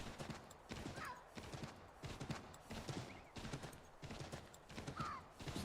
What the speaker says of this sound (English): And then we just have more like frontier horse riding.